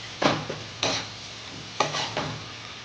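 Ginger-garlic paste being sautéed in a pan for a chicken curry, with a few scraping stirs of a spoon over a faint sizzle, close and fairly quiet.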